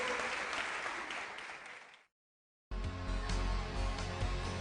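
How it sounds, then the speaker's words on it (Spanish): Church audience applause welcoming the pastor, a fading wash of clapping that cuts to silence before a music-like tone returns. "aplauso para recibir al pastor."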